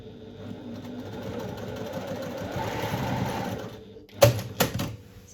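A sewing machine bastes tape in place along a seam, whirring steadily up close for about four seconds before stopping, followed by a couple of sharp clicks and knocks.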